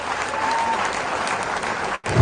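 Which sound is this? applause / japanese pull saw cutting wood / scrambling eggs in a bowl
applause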